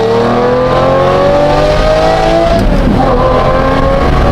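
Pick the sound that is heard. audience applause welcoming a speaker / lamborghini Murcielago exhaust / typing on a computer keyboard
lamborghini Murcielago exhaust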